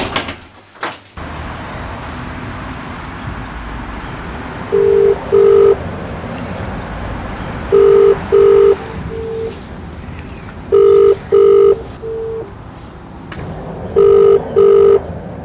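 A telephone rings in repeated double bursts over a steady background hum, the rings clear and fairly loud with pauses between each pair, and no one speaks.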